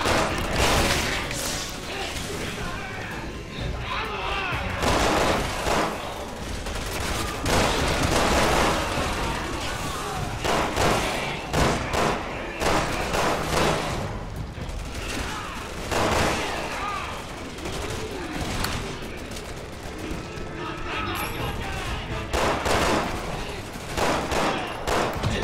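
Gunfire in Resident Evil 6, with rapid bursts and single shots cracking repeatedly in dense, uneven volleys through a steady clamor of action and impacts.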